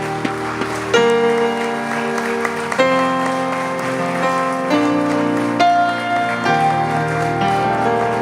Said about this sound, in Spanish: Yo quiero que le deje un aplauso fuerte al Señor.